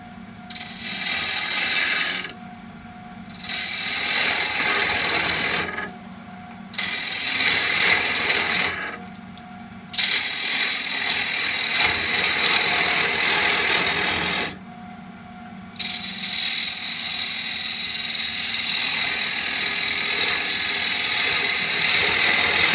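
A wood lathe turns an Idigbo wood bowl, making a loud, steady, broadband shaving roar that comes in long bursts separated by short pauses when the tool lifts off. No one speaks.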